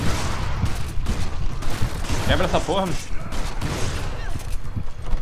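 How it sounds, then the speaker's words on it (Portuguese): Gunfire in the video game Resident Evil 5: a rapid run of shotgun blasts in a village firefight, loud and close, mixed with game effects while a player speaks over them. "Deu uns 10 tiros de 12 e não quebrou."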